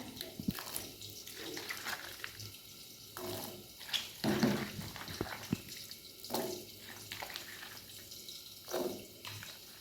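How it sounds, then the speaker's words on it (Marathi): Water splashes and trickles in bursts, with sloshing and dripping as cabbage is dropped into a pot of boiling water, fairly close and moderately loud. "हीच कोबी आपल्याला या पाण्यात टाकायचं उकळलेल्या पाण्यात"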